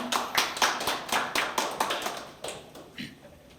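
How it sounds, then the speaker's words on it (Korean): A small seminar audience claps for a lawyer being introduced, a loose burst of distinct hand claps that starts close and lively, then thins out and fades over a few seconds. "큰 박수 부탁드립니다."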